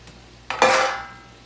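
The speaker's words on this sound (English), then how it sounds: "Go ahead and stir this around" A spatula stirs meat, green pepper and mushrooms in a frying pan, with a short scrape followed by a louder sizzling sweep that fades over about a second, close and without talk.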